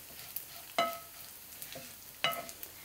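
Four cloves dropped into a hot pan for Maharashtrian coconut rice, giving two sharp bursts of sizzle with soft clinks over a quiet background hiss, no voices.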